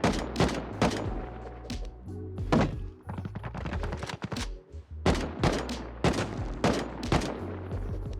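Gunshots hit a base wall in Rust, sharp loud single and clustered shots with heavy thunks on impact, spaced irregularly and heard alone without speech.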